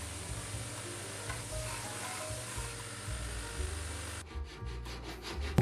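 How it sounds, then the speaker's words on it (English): Sandpaper rubs steadily over the wooden sides of a handmade birdhouse, a continuous dry scratching that carries on close by with no talk. "Just sanding up the sides now."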